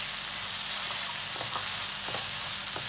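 Capsicum goes into a pan of sizzling tandoori chicken masala, a steady close frying hiss with a few soft stirring clicks, no voices.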